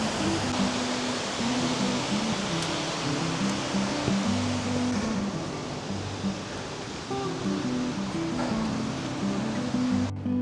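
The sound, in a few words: large waterfall, Cascade du Pi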